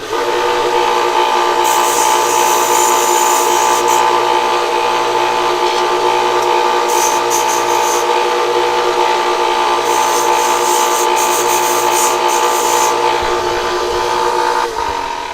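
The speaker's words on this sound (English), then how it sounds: "I'm going to go to the belt sander." A stationary belt sander sanding a spoon, giving a loud, steady whining drone with several bursts of harsh grinding as the metal meets the belt.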